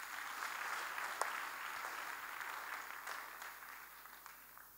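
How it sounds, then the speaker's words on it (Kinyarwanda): A church congregation claps in a faint, distant patter that carries on unevenly for several seconds with no speech over it. "Dukomere Imana yacu amashyi."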